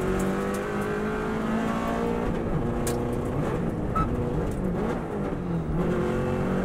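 A Subaru WRX STI races flat out along the Isle of Man road course, its engine droning loud and steady at high revs with continuous road and wind roar, close and unbroken throughout.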